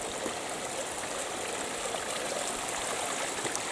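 A mountain stream in the Tararua Range flows beneath a wooden boardwalk, a continuous broadband rush of water with a faint, even trickle, heard alone at moderate distance.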